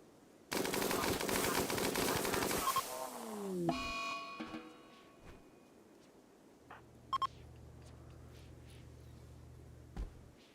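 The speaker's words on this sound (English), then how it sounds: "Get behind my minigun." A minigun in the video game RimWorld fires one long, dense, rattling burst for about two seconds, then fades into scattered game beeps, clicks and a low electronic hum.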